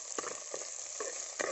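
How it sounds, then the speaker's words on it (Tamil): Onions sauté in a pan for a Tamil brinjal and goat trotter curry, a faint steady sizzle with a few soft stirring scrapes over a short stretch. "வெங்காயத்தை போட்டு கொஞ்சம் நல்லா வதக்கிக்கலாம்."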